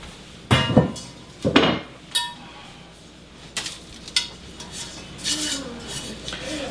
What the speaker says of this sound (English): So, this is my Dutch oven.